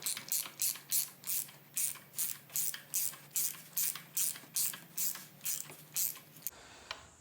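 Ratchet wrench turning counterclockwise to loosen a spark plug on a Honda V6, a close series of about eighteen evenly spaced clicking strokes in a steady rhythm, alone without talk.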